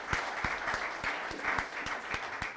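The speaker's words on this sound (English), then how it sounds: "You could all give him a good round of applause for this." Continuous applause from an audience at an inauguration event, steady dense clapping with a few sharper individual claps standing out, fairly close and filling the whole moment.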